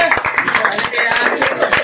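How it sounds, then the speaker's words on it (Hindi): An audience claps in quick, close, lively applause at a Friday fun event at a play academy, with a voice speaking over the clapping. "एक बार जोरदार तालियां शिवानी के लिए"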